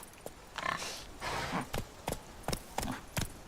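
Roach, a horse in the video game Witcher 3, clip-clops along, sharp hoof clicks at a fairly regular trot pace over a soft background rumble.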